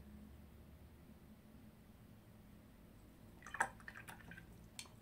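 Gouache paintbrush rinsed in a water jar, giving a short burst of splashy drips and clinks near the end after a quiet stretch of faint room hiss.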